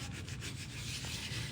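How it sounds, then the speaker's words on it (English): Steady, quiet rubbing and scrubbing of paper against an inked collagraph plate in continuous firm circular strokes, burnishing the print, close and even. "Burnishing is the act of pushing and rubbing in a round motion."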